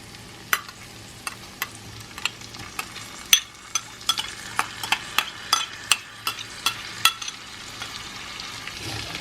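Soaked keluak nuts sautéed with ground spice paste for rawon, a steady sizzle in the pan broken by a regular series of sharp scraping taps from the spatula stirring, close and fairly loud with no talking.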